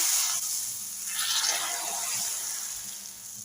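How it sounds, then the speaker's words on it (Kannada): A hot tempering is poured into freshly boiled bassaru, a Karnataka-style lentil and greens soup, after the stove is switched off. A brief hissing splash swells mid-clip over a continuous watery wash. "ಇವಾಗ ಒಗ್ಗರಣೆ ಹಾಕ್ಕೊಳ್ತೀನಿ"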